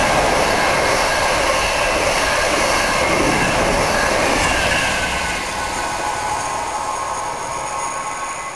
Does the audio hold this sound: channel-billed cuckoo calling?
no